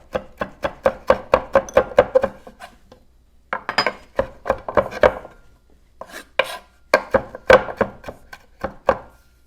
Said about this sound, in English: I'm just going to chop it up as fine as I can